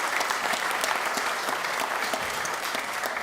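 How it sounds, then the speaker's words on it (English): An audience at a Shabbat evening service gives David, the legal advisor, a round of applause, a steady, even patter of many hands that continues without a break. "Round of applause for David,"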